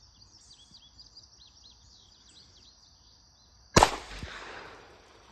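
An SIA .357 Magnum compact stainless revolver fires a single .38 Special Blazer Brass 125 grain round outdoors from about 10 yards. The sharp report comes after quiet birdsong, then rings out into a short decay.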